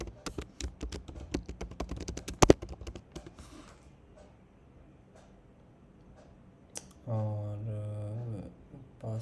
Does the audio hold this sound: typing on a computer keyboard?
yes